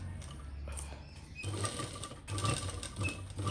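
Home sewing machine stitching a frock with a flared kali panel, close short bursts of rapid mechanical clatter that start and stop, with quieter handling noises between runs and no talking.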